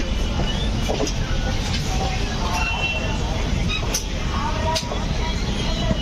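The Gitanjali Express slowly enters a platform at Tatanagar Junction during track maintenance work, with a dense, continuous rolling rumble and faint metallic squeals, and possible voices in the background.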